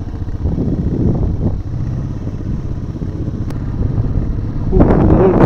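A fully loaded motorcycle rides slowly over a rough mountain village road, its engine a steady close rumble mixed with clattering from the bumpy surface, rising slightly toward the end, with no talking.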